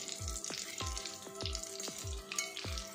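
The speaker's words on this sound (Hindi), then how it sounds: "तो इसमें इस बॉल्स को डालेंगे और इनको फ्राई" Paneer balls dropped into hot oil for deep-frying, with a soft, steady bubbling sizzle and a series of regular low thumps, fairly faint and close, with no voices.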